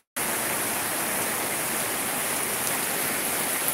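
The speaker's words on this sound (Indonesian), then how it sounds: "Sekarang hujan." Heavy rain pours steadily during an outdoor weekend barbecue, a dense, constant hiss that stays loud and even throughout with no voices over it.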